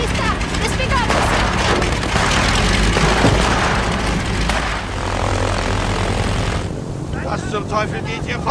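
An airplane in an action film scene roars loudly with a dense, continuous engine rumble as it takes off, mixed with blasts and layered under speech, then thinning out near the end.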